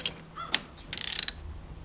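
Ratchet clicks in a quick run of about ten sharp ticks while tightening a part on the tilt steering of a Kubota LX2620SU tractor, close and isolated, preceded by a few faint metallic taps.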